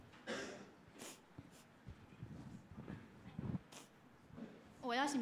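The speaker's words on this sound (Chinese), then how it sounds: "我要擤鼻涕，不好意思。" A person blowing their nose, with a few short snorting, breathy bursts at close range and a voice briefly heard toward the end.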